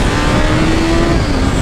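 A new Honda CB1000 motorcycle engine revs hard and loud, a dense, sustained roar held close to the listener with no voices over it.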